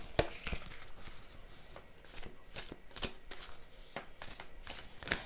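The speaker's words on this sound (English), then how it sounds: "Let's draw some oracle cards as well." Oracle cards being shuffled by hand, a run of crisp papery riffles and flicks repeating irregularly at close range, with no talking.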